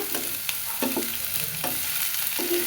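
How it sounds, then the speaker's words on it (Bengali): Hilsa fish heads frying in oil in a pan give a continuous sizzle, with a few spatula knocks and scrapes against the pan as they are stirred, close up. "ইলিশ মাছ ভাজা এখন এর ভিতরে এই মাছের মাথাগুলো দিয়ে দেব"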